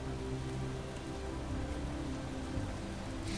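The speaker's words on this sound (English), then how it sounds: "Of course, it's going to be raining right now." Steady rain in the video game Space Engineers, a continuous dense hiss of drops on surfaces with a low rumbling undertone, even and unbroken throughout.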